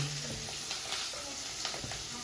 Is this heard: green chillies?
yes